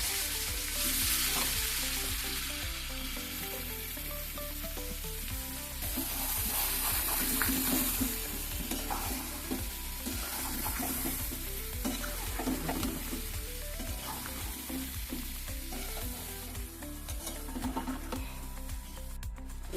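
Whole spices and chili powder frying in oil for a mango pickle, a continuous loud sizzle with repeated scraping stirs of a spoon against the pan, close and without speech.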